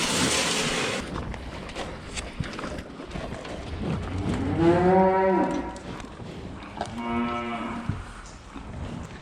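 Young dairy stock on a farm mooing, two long, loud, close bellows a couple of seconds apart over a noisy barn background of shuffling and clatter.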